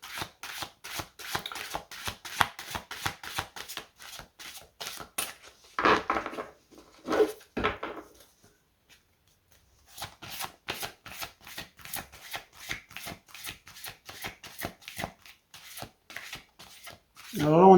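Cards from a shamanic oracle deck riffle and shuffle in quick, close bursts of crisp flicks, with a pause in the middle, a few rustles, then more rapid shuffling.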